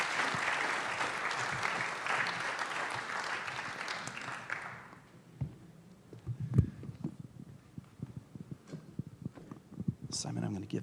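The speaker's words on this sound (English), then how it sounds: "Let's give them a round of applause." Audience applause at a student event, a full round of clapping that fades out after a few seconds, followed by scattered footsteps and bumps as people move, with a voice talking.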